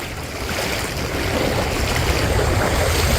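Sea water rushing and churning into flooded houses in coastal Chellanam and Kannamali, Kerala, a steady loud wash of moving water with a continuous turbulent roar and no pause throughout.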